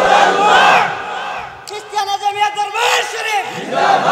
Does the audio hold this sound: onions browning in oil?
no